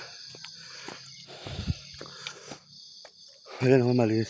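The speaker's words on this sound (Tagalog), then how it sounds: "kasi marinig mo lang dito yung huni ng ibon, kuliglig." Crickets chirp in a steady high-pitched trill in the background while a person speaks a few short words nearby.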